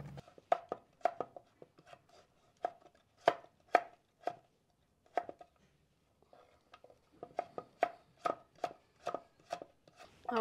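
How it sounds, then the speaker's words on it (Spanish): Knife chopping zucchini and carrots on a cutting board, sharp close rhythmic knocks in quick bursts with short pauses between runs, no talking. "así de esta forma vamos a picar las calabacitas y las zanahorias."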